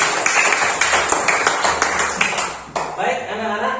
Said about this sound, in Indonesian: Tepuk tangan kembali untuk kalian semua